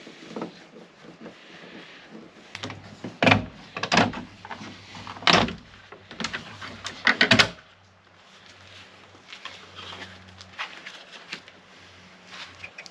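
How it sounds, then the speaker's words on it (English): A van door panel is pried and pulled off, giving a series of sharp plastic clicks, snaps and knocks clustered together, then a low hum with scattered light taps. "I'm going to take this door panel off"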